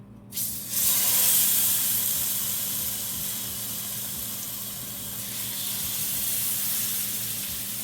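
A salmon fillet laid skin-down in a hot pot sets off a sudden loud sizzle that settles into a steady, even hissing sear for several seconds with no one talking.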